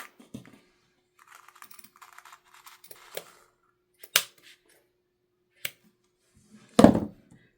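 Scissors trim the yarn beard of a handmade craft gnome, giving a few sparse, sharp snips and soft rustles spaced apart, close and quiet with nothing else around them.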